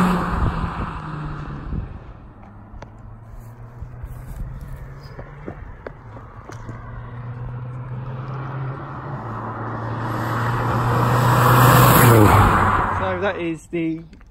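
An Audi S3 drives along a road with a steady low engine drone and tyre rumble, swelling louder as it passes near the end, with outdoor wind noise around it.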